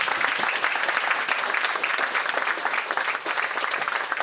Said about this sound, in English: Give Aunty Barb a round of applause.